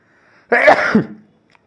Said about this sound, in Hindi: अचानक से छींक आ गई